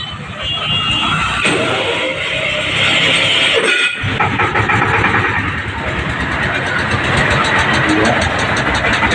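A vehicle engine runs loudly and continuously in a village garage in Thakurgaon, a dense mechanical roar with a brief dip partway through before resuming.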